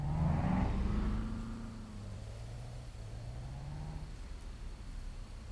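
Car engines rev in a quiet video game, a fairly loud rising engine drone at the start that eases into a steadier, softer hum with faint tonal sweeps, no talk.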